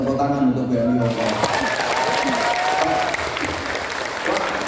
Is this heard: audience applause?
yes